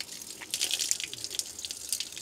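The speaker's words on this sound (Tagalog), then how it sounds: "We shall wash our hands." Cold mountain water pouring and splashing while hands are washed at a Shinto shrine's purification basin in Aomori, a close, continuous trickle with bright drips and splatters, no talking.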